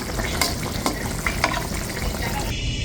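Tilapia fish curry with coriander leaves being stirred in a pan, a continuous close sizzle with a few sharp spoon scrapes and taps against the metal.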